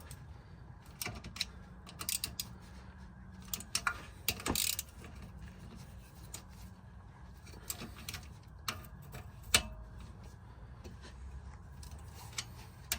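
A small hand ratchet tightens the differential cover bolts on a 1994-2004 Mustang, giving short bursts of quiet clicking separated by pauses. The sound is faint and close.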